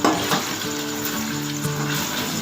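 Spoon scraping and stirring makhandi halwa in a hot pan, with a steady sizzling fry underneath and faint scrapes against the metal, close and continuous.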